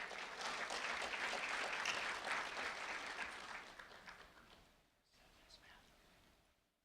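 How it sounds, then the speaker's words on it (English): Audience applause for a 5th grade student from Sunshine Elementary School in Lehigh Acres rises broad and steady, then fades and thins to scattered claps; a few voices murmur beneath. "a round of applause for Martavian Martinez"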